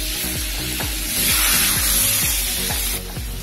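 Cumin seeds and a bay leaf sizzle in melted butter, a close crackling hiss that swells in the middle, with regular soft scraping strokes of a spoon marking an even rhythm underneath.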